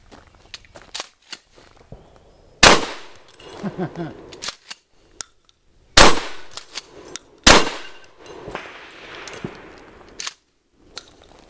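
A 12 gauge shotgun fired at closely grouped targets: three loud, sharp blasts spaced a few seconds apart, each with a brief echoing tail, between quieter clicks and handling noises.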